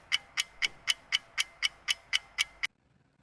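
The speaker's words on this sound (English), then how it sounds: "you can use a ticking clock" A ticking clock used to soothe a crying baby gives about eleven crisp, evenly spaced ticks roughly four per second, close and clear, then stops into silence.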